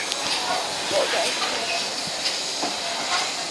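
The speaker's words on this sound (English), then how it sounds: "this is just inside the train" Interior of a moving heritage railway carriage on the Mornington Peninsula Railway, with a steady broadband rumble and hiss of the running train and faint intermittent rattles and clicks throughout.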